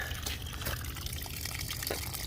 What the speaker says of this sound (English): as you can see, the water's pouring out of the exhaust